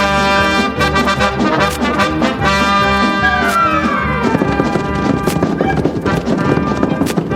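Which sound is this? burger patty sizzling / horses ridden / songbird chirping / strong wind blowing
horses ridden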